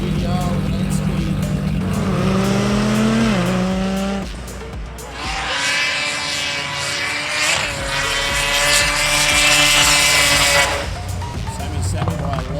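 Roll racing cars at a Sydney nationals event, a turbo car against an 8-speed car, with loud engines revving and shifting through gears, rising whines and a roaring high-pitched pass, a voice heard under the noise.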